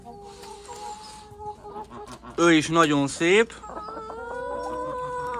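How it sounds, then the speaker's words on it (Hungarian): A newly arrived rooster kept with hens on a farm clucks softly, then lets out one loud, close crow, while a person speaks briefly before and after. "Ő az új kakas itt."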